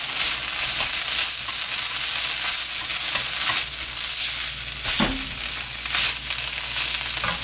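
Dried sea fennel greens stir-fried in a pan, with a steady close sizzle and scraping stirs throughout, and a brief knock of the utensil against the pan midway.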